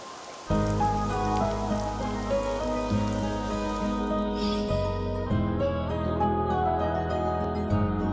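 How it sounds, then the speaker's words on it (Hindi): Steady rain falls in a romantic TV drama scene, a constant wash of drops sitting under loud sustained music that dominates throughout, with the downpour only partly audible beneath it. "आज 20 साल बाद हम बारिश में भीगे हैं"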